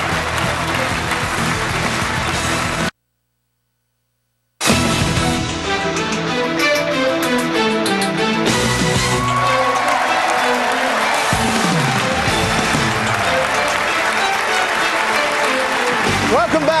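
Fired-up crowd at the Republican presidential debate in Sioux City, Iowa, in December 2011, giving sustained loud applause and cheering. A short gap of silence breaks it, and then the roaring clapping continues with a voice speaking over it.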